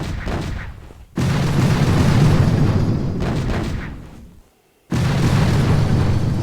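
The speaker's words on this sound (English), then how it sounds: "I want to see how good my artillery is at level 4." Artillery shots from a level 4 artillery in the mobile strategy game Boom Beach Warships: two heavy, loud booming blasts with sustained rumbling decay, separated by a short lull and a brief silent gap.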